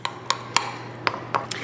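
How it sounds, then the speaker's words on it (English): Spoon clinking against a bowl while mixing maple syrup, vanilla extract and cinnamon into a glaze, a handful of sharp, irregular taps spaced across a quiet kitchen background. "And then we're going to mix that together and that will form our glaze."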